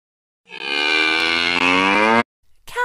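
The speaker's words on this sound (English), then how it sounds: "Cow." A cow gives one long, loud, drawn-out moo that lasts nearly two seconds and then stops, heard alone with no talk.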